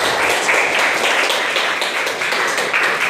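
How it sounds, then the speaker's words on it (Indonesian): Children in a classroom clap their hands for a classmate, a steady close wash of many hands clapping throughout the short stretch with no talk over it. "Tepuk tangan buat Alif."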